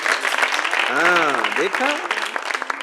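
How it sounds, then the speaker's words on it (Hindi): Children clap enthusiastically together, a dense burst of applause mixed with voices and an adult speaking over it. "ये देखो, जोरदार तालियां बच्चों।"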